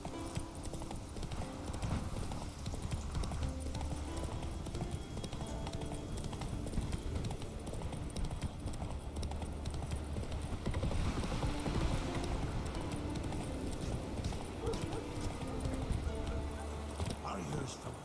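Hooves of the horse Roach clip-clopping steadily in The Witcher 3, with an occasional whinny, under continuous game ambience and background music.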